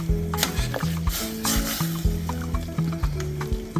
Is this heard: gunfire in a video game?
no